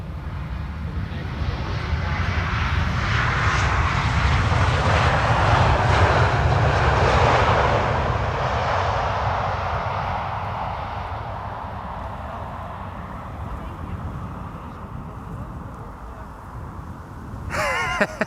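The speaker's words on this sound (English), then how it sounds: "Transavia A321neo will be next after this." A Transavia Airbus A321neo jet arrives at Amsterdam Schiphol on a sunny, crosswindy day, its engine roar swelling loud overhead and then fading slowly into a distant rumble. No voices are heard.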